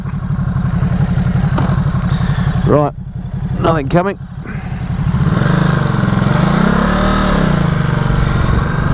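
A 2017 Ducati Supersport S twin-cylinder motorcycle engine runs loud and close, a throbbing idle with a short interruption, then rising and falling revs. Someone talks briefly over it.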